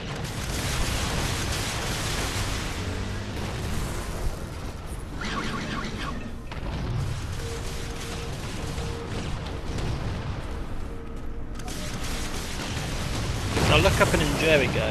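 Fireworks rocket explosions in Halo 4 give a steady stream of rumbling booms and crackling bursts across the whole stretch, layered with gunfire and swelling louder near the end.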